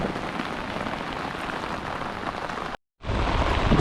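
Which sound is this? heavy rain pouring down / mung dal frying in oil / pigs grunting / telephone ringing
heavy rain pouring down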